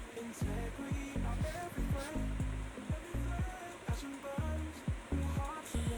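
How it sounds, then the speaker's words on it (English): A sewing machine stitches down a pinned seam on a cargo-pocket palazzo pant, its motor running in repeated short bursts with brief pauses between, fairly close and steady. "take it into your sewing machine"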